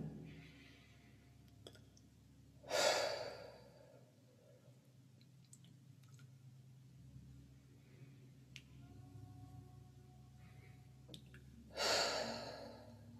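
Slow, deep breathing during a breathwork meditation session, with two long, audible breaths spaced well apart over a quiet, faint background.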